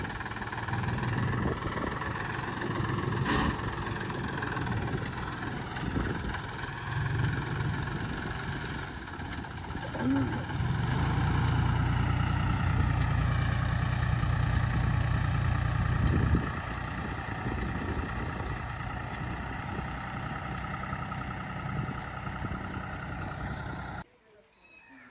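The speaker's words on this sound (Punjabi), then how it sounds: "ਤਿੰਨ ਕਿੱਲੇ ਰਾਜਮਾ ਦੀ ਸਪਰੇ ਕਰਨ ਲੱਗੇ ਆ ਜੀ ਟਰੈਕਟਰ ਦੇ ਨਾਲ" A tractor engine spraying a kidney bean field drones steadily at idle, with a brief voice and some murmuring over it, the engine swelling louder midway before abruptly cutting off near the end.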